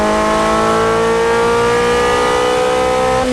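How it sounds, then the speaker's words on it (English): A Toyota MR2 fitted with a Honda K20 engine accelerating hard, its loud, continuous engine note climbing steadily in pitch as the VTEC engages, with a rising harmonic whine near the end and no voices. "The car's certainly not refined and quiet, that's for sure, especially when you kick into the VTEC."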